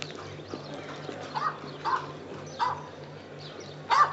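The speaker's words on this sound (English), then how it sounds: "A dog." A dog in an audio drama gives a few short barks, spaced about half a second apart, then one louder yelp at the end, all over a low steady hum.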